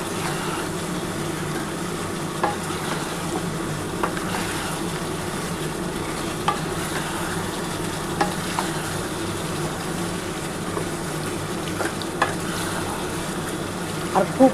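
Chicken and ginger-laden spicy masala being stirred and fried for kosha, a low steady sizzle in the pan with occasional soft scrapes and taps of the spoon, fairly quiet throughout.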